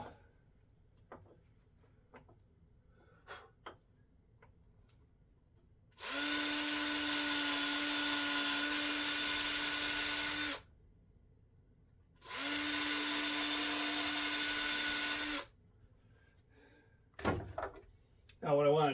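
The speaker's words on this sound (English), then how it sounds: "I can drill them out now" Two loud sustained bursts from a power drill boring holes in a knife blade, each several seconds long, steady and close, separated by quiet pauses with light handling clicks and taps around them.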